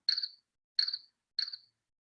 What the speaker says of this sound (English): I want it to do all of this stuff and also play the cricket sound